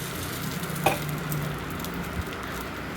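Appam batter hits a hot pan and is swirled around it, giving a steady sizzling hiss with a brief clink as it is poured and a soft knock later, close and fairly quiet.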